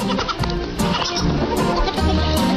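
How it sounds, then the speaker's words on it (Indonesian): Four young Nigerian dwarf goat kids at play on a farm, giving repeated close bleats amid a dense, noisy jumble of overlapping sounds. "video yang memperlihatkan 4 anak kambing cebol yang tengah bermain-main"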